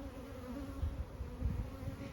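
Honeybees hum and buzz around a beehive in Paris, a close, steady swarm drone with a few louder passes as individual bees fly near.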